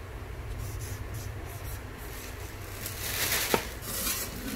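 A secondhand Japanese metal cooking pot weighing about one kilogram is handled, giving soft scrapes and scuffs followed by a single sharp metallic clink near the end, close and fairly quiet.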